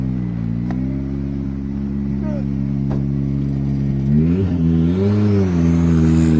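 Rally car at speed on a closed tarmac stage of the 2021 Rally Islas Canarias, running carefully after a puncture with no spare tyre; a steady loud engine drone with pitch rising and falling through gear changes, under commentary talk.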